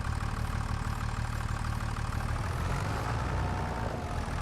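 A modded tractor engine idles in Farming Simulator 25, a steady, dense low rumble with a constant mechanical chug and no talking over it.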